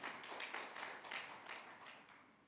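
A church congregation at a Sunday worship service clapping together, a steady, faint wash of many hands with a loose rhythmic pulse throughout.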